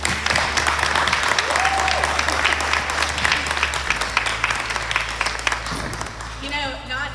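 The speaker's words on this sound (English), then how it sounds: "Let's just give her a round of applause." A crowd at a school retirement celebration gives sustained, full applause that fades slightly, and a voice rises over it near the close.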